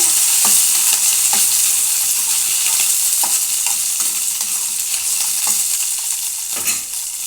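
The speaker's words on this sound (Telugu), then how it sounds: "కొంచెం ఆయిల్ వేసి వేపుకోవాలండి" Oil sizzles steadily in a kadai as leaves of nalleru (veldt grape) are fried, with a constant loud crackling hiss and periodic sharp scrapes and clinks of a spatula stirring through, no voices.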